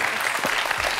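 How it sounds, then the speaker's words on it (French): Studio audience of a French quiz show applauds a triple champion, a dense, continuous burst of clapping lasting about a second, loud and close. "On va applaudir Martine pour ses trois titres."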